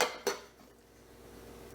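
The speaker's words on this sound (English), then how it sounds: "And then you put the lid on." A lid is set onto a slow cooker pot, giving one brief near clink at the start, followed by quiet room tone.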